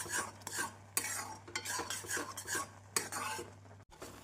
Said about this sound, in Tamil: நாம் பாதாமல் அல்வா கைவிடாமல் கிளறினால்தான் நன்றாக வெந்து வரும்